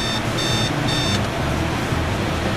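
A Cosmo Time 5500A alarm clock sounds its alarm in a few short bursts of high beeping over a steady background hum, fairly loud and close.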